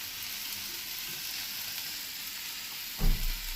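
Onions fry to a reddish brown in a pan for a Bengali piyaj posto, giving a steady, close sizzle and hiss throughout, with a brief louder clatter of stirring near the end.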